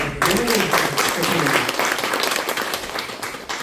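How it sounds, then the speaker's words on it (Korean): An audience at a cyber university meeting breaks into applause, starting loud and then tapering slightly. A speaker's voice overlaps the clapping at the start. "박수 한번 드립니다."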